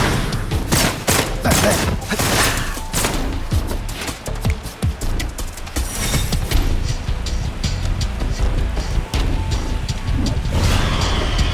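Rapid bursts of gunfire rattle through a Wuthering Waves battle, dense overlapping shots and impacts over game effects, loud and continuous with a character's voice briefly in the mix.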